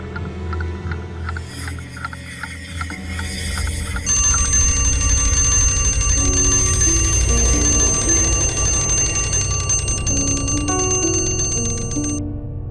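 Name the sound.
alarm clock ringing at night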